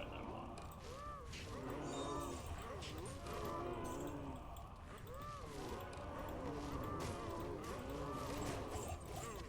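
Cows in the video game Diablo 2 moo over and over in a steady, overlapping herd chorus, fairly quiet throughout, with a player talking over the game sound.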